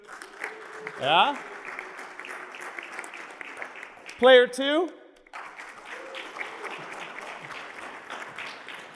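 Audience applause and cheering during an on-stage party game at a JavaScript tech conference, rising in two short bursts for the players while a presenter keeps talking over a steady crowd murmur.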